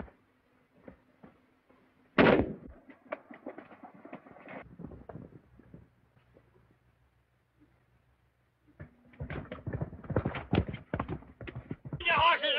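Horses clip-clop in a 1933 action film scene, the hooves arriving as a loud burst of dense, rapid beats after stretches of talk, then returning strongly near the end with overlapping shouts and voices.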